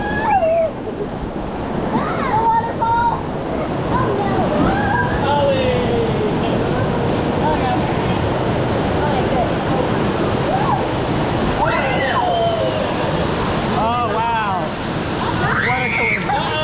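Water rushes and splashes around a round raft on the Congo River Rapids ride at Busch Gardens Tampa, a loud continuous wash of surf-like roar with riders talking and shouting over it throughout.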